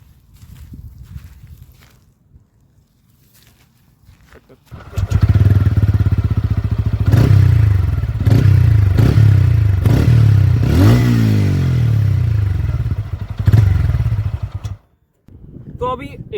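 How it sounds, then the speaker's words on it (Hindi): A 2025 TVS Ronin 225 motorcycle in Magma Red fires up after a quiet stretch, settling into a loud, close exhaust note with several sharp revs before cutting off, and a voice talks briefly near the start and end. "तो अभी एग्जॉस्ट नोट बहुत ही अच्छा था, ज़्यादा लाउड भी नहीं था, ज़्यादा कम आवाज़ भी नहीं था।"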